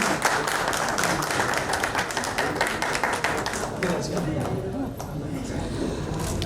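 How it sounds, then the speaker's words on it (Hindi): Audience clapping to welcome a guest at a radio show launch event, a continuous crowd patter that gradually fades toward the end, with talking beneath it. "तालियों के साथ पद्मा जी का स्वागत कीजिए।"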